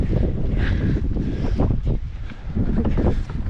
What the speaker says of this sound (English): Oh, the wind shifted.